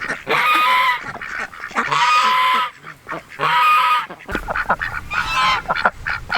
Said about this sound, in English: plus the 1 guard goose, Greg.